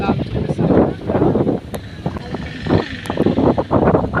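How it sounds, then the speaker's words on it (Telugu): Cold wind gusts across a microphone outdoors at a picnic, a steady, loud, low rumbling buffet that rises and falls through the whole stretch, with voices mixed in underneath. "గాలి చాలా చల్లగా వస్తుంది"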